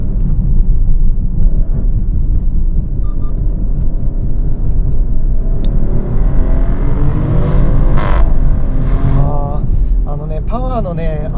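A Maserati Grecale Trofeo accelerates in GT mode, its engine droning loudly from inside the cabin and rising smoothly in pitch toward the end.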